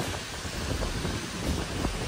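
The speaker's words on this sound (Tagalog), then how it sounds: "Lakas ng ulan, guys. Ang hangin." Dense, steady rush of heavy rain mixed with blustery wind, a constant broadband roar close to the microphone with no voices.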